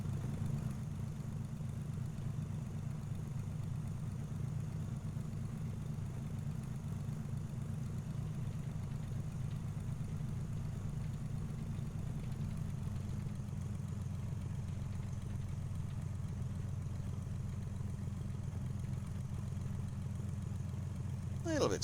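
Bellanca Super Viking light aircraft taxiing in the P3D/FSX flight simulator, a steady low piston-engine drone that holds even and unbroken throughout, with no voices.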